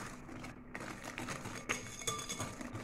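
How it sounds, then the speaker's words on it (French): Eggs and sugar being whisked by hand in a bowl for cake batter, a quiet, fairly steady scraping and clicking of the whisk against the bowl, with no talk. "On va bien fouetter le tout."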